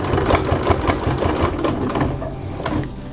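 A sewing machine runs steadily and close up, stitching slowly over a thick seam on a pair of jeans during hemming, with an even mechanical chatter throughout.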